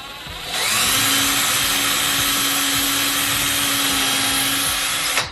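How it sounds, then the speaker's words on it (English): A power drill whirs steadily and loudly for about five seconds at close range while pre-drilling a hole, starting abruptly and stopping with a brief spike. "Pre-drill, check."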